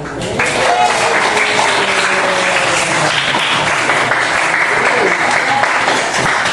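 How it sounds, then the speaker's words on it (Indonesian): Classroom applause, a group of students clapping hands together in a sustained, loud burst lasting several seconds, close and continuous. "Tepuk tangan dulu."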